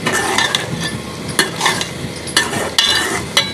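Chicken mince with tomatoes frying in a pan while being stirred: loud, close sizzling broken by repeated spoon scrapes and clacks at irregular intervals, no one speaking.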